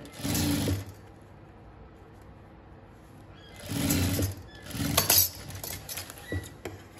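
A sewing machine stitching a bag in short bursts, one near the start and a longer run after a pause, fairly close with quiet gaps between.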